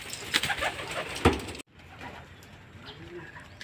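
Pigeons in a loft give soft cooing calls with some rustling, loudest in the first second and a half, then a quieter stretch of faint bird sounds and room noise.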